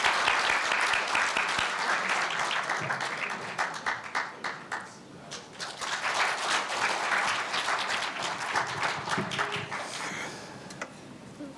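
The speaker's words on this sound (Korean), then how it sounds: "큰 박수를 맞아주시기 바랍니다." Applause from an audience at a university newspaper's 70th anniversary ceremony, a sustained wash of many hands clapping that dips briefly midway and then swells again.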